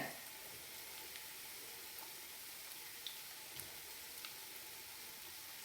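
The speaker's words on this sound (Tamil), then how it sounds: "அதே பேனில் இந்த ப்ரெட் பீசஸை நம்ம போட்டு லைட்டாக வறுத்துக்கலாம் பாருங்கள்." Bread pieces lightly frying in a pan, a faint, even, continuous sizzle with a few small ticks and clicks.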